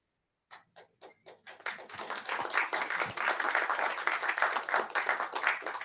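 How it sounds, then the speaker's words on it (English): Panelists at a digital publishing event are greeted first by a few slow, separate claps, then a steady, fairly loud round of audience applause. "A very slow applause."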